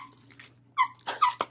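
A dog gives a few short high whines and squeaky vocal yips close by, quiet at first, then several brief whimpering calls in quick succession indoors.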